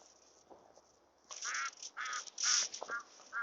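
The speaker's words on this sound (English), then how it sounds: "My ducks, they hear me" Farm ducks quack in a run of short, nasal calls at close range on a chilly, cold day outdoors, after a quiet start.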